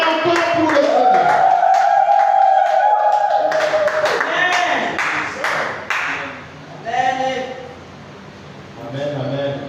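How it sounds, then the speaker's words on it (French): A church congregation at a French-language evangelical service claps and cheers for the Lord, with scattered hand claps and crowd noise mixed under a loud sustained voice and singing-like calls. "est-ce que tu peux acclamer encore pour le Seigneur?"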